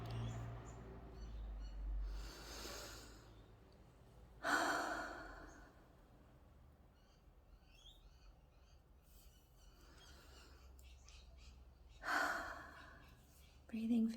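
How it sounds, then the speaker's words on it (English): Slow, deep belly breaths, several long airy inhales and exhales spaced apart, close and soft in a quiet room. "let's do some really big, deep belly breaths, just to keep us calm"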